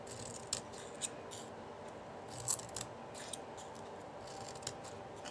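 Scissors snip through paper to cut faux grass for an Easter egg scrapbooking page, a quiet, close series of crisp clicks spread unevenly under a soft steady background hiss.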